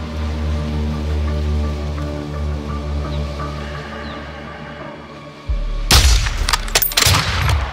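Call of Duty sniper mission in ghillie suits: a low steady hum, then a sudden loud gunshot burst followed by a few sharp rapid reports.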